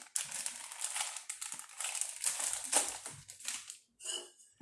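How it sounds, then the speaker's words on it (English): Dark chocolate chips, one cup, poured into a blender jar, giving a dense clattering crinkle of small hard pieces that stays close and steady for several seconds, then drops off before a last short rattle. "Pull out your blender, and you're going to put in 1 cup of chocolate chips"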